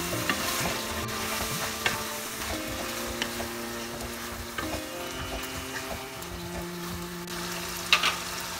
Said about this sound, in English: Now saute for a few more minutes.